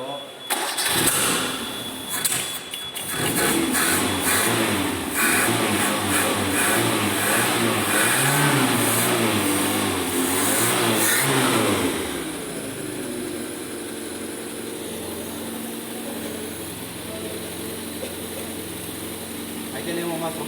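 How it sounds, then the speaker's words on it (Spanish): A car engine in a training workshop revs up to roughly 2000 RPM, a loud, sustained rising drone that holds steady before dropping back to a quieter idle hum, with people talking over it. "Ahí tenemos más o menos a 2000 RPM."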